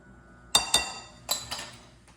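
A utensil stirring vanilla into batter in a glass bowl gives four sharp clinks against the glass, two close together and then two more, crisp and nearby in an otherwise quiet kitchen.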